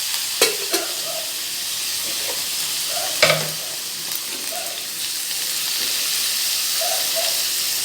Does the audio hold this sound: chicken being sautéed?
yes